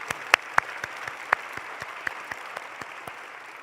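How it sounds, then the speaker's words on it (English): Scattered, sparse claps ring out at a White House heritage celebration, a few sharp individual hand claps spaced irregularly over a quiet room rather than full applause. "can we all give a round of applause to Richard Louis"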